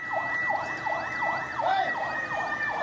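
Fire engines answering a building fire, where sixteen fire trucks are working on all four sides of the structure, sound a wailing siren that sweeps up and down in a steady rapid cycle, loud and continuous with no talk.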